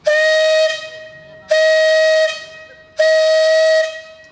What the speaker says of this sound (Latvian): Ar senās lokomotīvas svilpienu